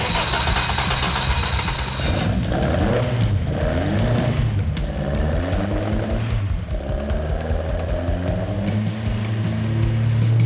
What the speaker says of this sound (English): finally firing up the twin-cam engine